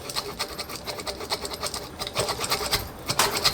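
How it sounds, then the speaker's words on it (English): Tire stitching tool rolled over a patch inside a punctured tire, giving a close, rapid ratcheting buzz of small clicks that grows a little louder and coarser toward the end. "we're going to take this tire stitching tool and we're going to roll the air out from underneath the patch"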